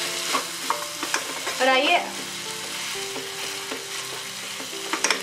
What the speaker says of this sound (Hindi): सब्जी में धनिया डाल के इसे अच्छी तरह से हिला देते हैं